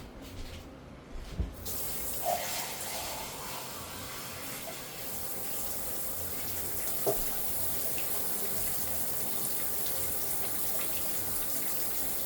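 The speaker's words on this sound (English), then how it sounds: "I'm gonna add some water." Tap water runs steadily into a pot of rice and gandules soup, a constant close rushing flow with a few faint clinks, continuing without pause.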